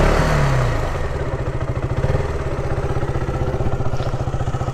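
A KTM Duke BS3 motorcycle engine revs up close, its rapid, loud exhaust pulses settling into a steady throbbing beat with slight swells, heard alone without talk.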